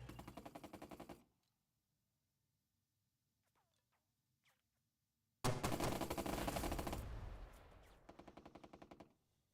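Bursts of machine gun fire from the Burden of Command wargame, loud rapid rattling volleys at the start and again in a long sustained stretch near the end, separated by near silence.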